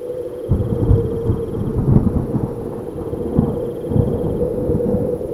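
Rumbling thunder rolls through a stormy wash of wind and rain, loud and continuous with heavier surges.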